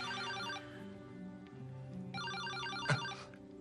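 A telephone rings in a quiet room during a conversation, two electronic ringtone bursts of warbling tones a few seconds apart, fairly clear over a steady low hum, with a brief knock between them.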